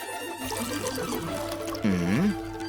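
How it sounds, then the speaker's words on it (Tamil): Liquid poured into a glass in a domestic drama scene, a continuous trickling fill with a rising tone under music, lasting throughout. "இல்ல, இன்னும் கொஞ்சம் ஊத்துவோம்."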